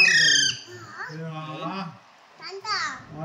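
A parrot just out of its bath gives a few short chirping, babbling calls that sound almost like a voice, close and clear with brief pauses between them.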